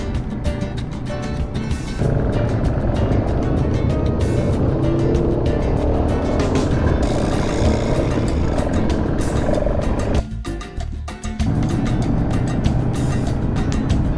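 Engines of a group of nine motorcycles, including BMW GS650s, drone and rev close by as the riders set off, forming a loud, steady rumble with a short dip partway through.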